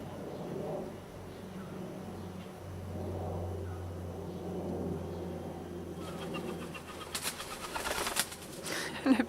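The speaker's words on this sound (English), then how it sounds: "The pigeon is having a fit over there." A pigeon coos from a tree overhead in a garden, soft and low against steady background hum, with a burst of louder rustling and flapping near the end.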